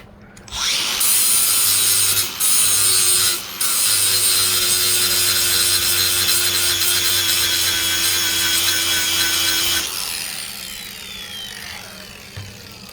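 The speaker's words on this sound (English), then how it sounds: "Take your buffing wheel and just buff it off." A power buffing wheel grinds a weld tack off metal during fabrication, a loud, steady high-pitched whirring rasp with two brief dips before it winds down near the end, close and with no talking.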